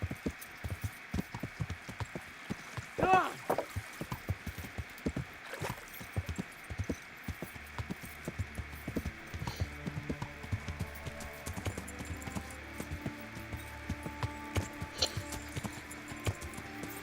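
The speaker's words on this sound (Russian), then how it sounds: "Ладно, не будем загонять лошадь." A horse's hooves clop along steadily in Kingdom Come: Deliverance, a brisk, regular drumming that stays fairly close and moderately loud throughout, with no talk over it.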